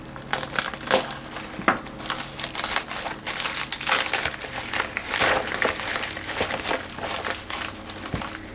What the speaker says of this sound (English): Why don't I just use the knife? If I cut along the edge here.